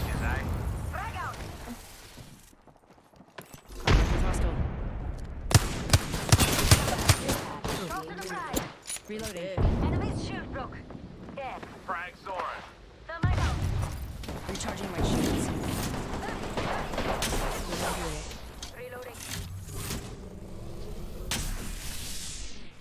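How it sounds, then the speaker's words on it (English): Knuckle Cluster weapon in the video game Elden Ring fires repeated rapid bursts of gunfire-like blasts and explosive cracks, loud and clustered over about twenty seconds. A voice talks in places between the volleys. "Knuckle Cluster's firing."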